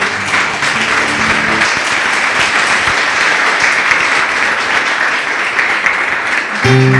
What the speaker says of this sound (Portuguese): Louve a Deus com suas palmas, bem forte.